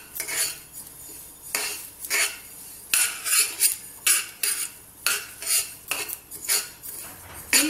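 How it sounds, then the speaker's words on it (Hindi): Black sesame seeds roasting in a pan for laddu, stirred in repeated rhythmic scrapes and metallic clinks of a spoon against the pan, each stroke followed by a brief pause, close and fairly loud. "तिल को डालकर हल्का इसे फ्राई कर लूंगी।"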